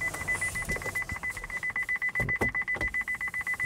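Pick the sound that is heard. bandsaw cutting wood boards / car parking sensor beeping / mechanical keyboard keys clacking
car parking sensor beeping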